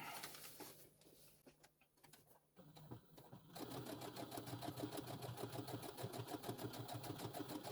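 Domestic sewing machine stitching fabric for a reusable sandwich wrap: after some quiet handling and fabric shuffling, a steady rapid mechanical chatter starts and runs continuously, close but fairly soft.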